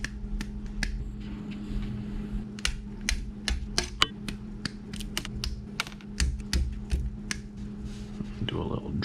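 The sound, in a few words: cutting Tamiya model kit parts off the sprues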